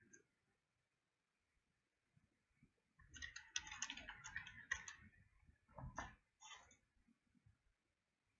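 Fingers typing a message on a computer keyboard, a quiet, close patter of rapid clicks in short bursts with pauses.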